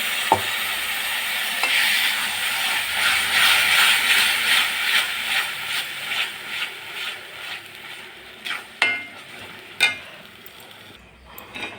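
Onions and a ground roasted spice paste sautéing in a pan for a buttermilk curry, a close crackling sizzle with repeated scraping stirs that grow more distinct and spaced out toward the end.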